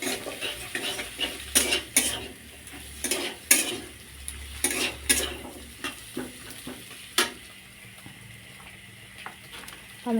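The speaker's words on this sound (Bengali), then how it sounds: "পেঁয়াজগুলো একটু দেবো, মানে একটু লাল লাল মতো করবো" Onions sizzle in a pan for chowmein while a utensil scrapes and clinks against the metal in irregular strokes, close and clear over a soft frying hiss.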